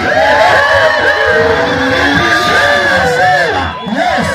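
A church congregation cheers and shouts at full volume, a dense close roar of many voices with whoops and yells that dips briefly near the end before surging back.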